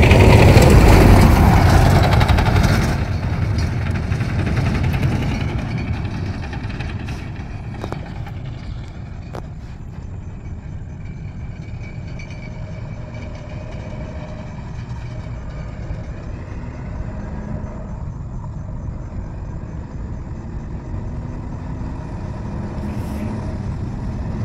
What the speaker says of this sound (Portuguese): Caminhão de um lado, caminhão do outro.